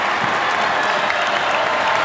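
A women's college basketball crowd at Carmichael Arena, North Carolina, claps and cheers in a loud, continuous roar from a packed arena.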